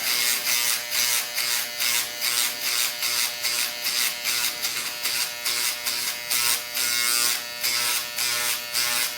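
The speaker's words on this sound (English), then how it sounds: "I'm just rubbing that along the razor so that it won't be blunt" An electric razor buzzes steadily through a doll's hair in a rhythmic pulsing drone, repeated passes rising and falling about once a second, close and loud with no talk.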